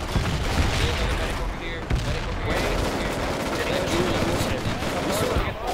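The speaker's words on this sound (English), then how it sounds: "Heads down, frag out." Frag grenade blast and sustained gunfire in the military shooter game Project Reality, a dense, loud barrage of shots and booms throughout, with voices talking underneath.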